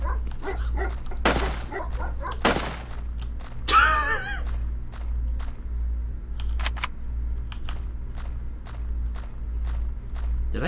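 A dog in a video game lets out a single short bark partway through, over a steady low hum and scattered faint clicks.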